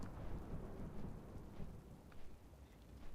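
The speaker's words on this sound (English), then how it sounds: "Oh, look at that lightning." Thunder rolls through a World of Warcraft game scene, a steady low rumble over rain-like hiss that swells and eases for about three seconds with no talking.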